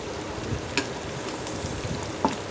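Chicken dropped into sizzling fried spices in a pressure cooker, a close steady frying hiss with a couple of sharp crackling bursts.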